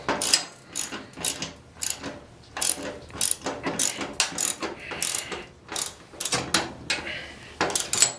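A ratchet wrench clicks in quick bursts while bolts are tightened on a 1000 lb motorcycle lift during setup, each sharp metallic ratcheting run repeating with brief pauses, close and loud.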